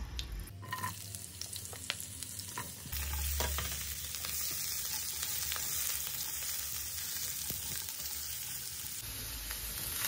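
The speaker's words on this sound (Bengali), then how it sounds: "দিয়ে দেব আরও একটু রিফাইন্ড অয়েল, দিয়ে আলুগুলো হালকা করে ভেজে তুলে নেব।" Potatoes fry lightly in refined oil with a close, continuous sizzle, and occasional scrapes and clinks of stirring cut through it.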